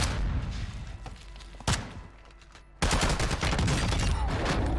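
Bursts of MP5 submachine gun fire in Warzone 2, loud and booming, with a short sharp blast followed by a sustained heavy barrage of rapid shots filling the clip.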